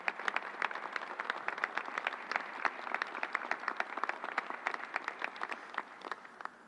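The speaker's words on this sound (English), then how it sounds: "Let's give them a big round of applause." A modest crowd at a New York City mass vaccination site applauds the nurses, doctors, technicians and National Guard, individual claps distinct and rhythmic in a steady round that fades toward the end.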